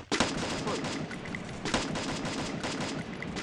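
Gunfire from an M4A1 rifle in the video game Free Fire rattles in fast, dense bursts. The shots are loud and close and nearly continuous throughout.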